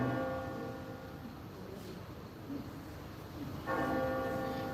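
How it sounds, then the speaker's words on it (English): The great church bell of Santa Maria rings during a staged Galileo drama. It gives two deep, resonant tolls with a long humming decay between them, loud and close. "The great bell of Santa Maria"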